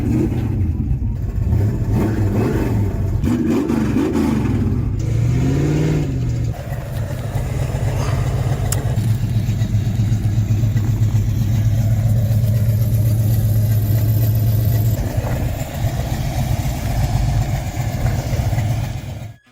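A key-started muscle car, a 1969 Chevrolet Camaro ZL1 with a 427 cubic inch V8, turns over and catches, then revs in several rising surges before settling into a loud, rumbling idle, close by with no talking.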